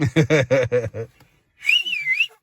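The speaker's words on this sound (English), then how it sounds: "You want to try that whistle again?" A person whistles a short wavering tune, the pitch sliding up and down, right after a few seconds of speech.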